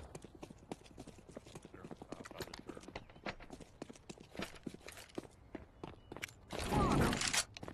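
Rapid footsteps patter in Counter-Strike 2, a steady run of light repeated steps with game noise around them and a louder burst near the end.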